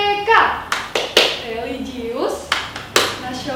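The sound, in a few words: children doing the PPK clapping chant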